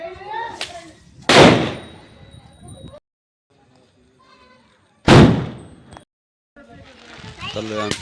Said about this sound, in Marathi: तिकडे त्याचे फटाके, आमची अशी लाईटी चालू आहे.